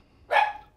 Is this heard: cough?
no